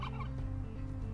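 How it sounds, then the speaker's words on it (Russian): A turkey gobbles in the survival video game Last Day on Earth, a brief, fairly quiet burst of rapid warbling notes over a low, steady background. "Индюк."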